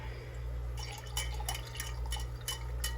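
Water is stirred in an aquarium container in a fish room, giving faint sloshing and drip-like splashes over a steady low electrical hum.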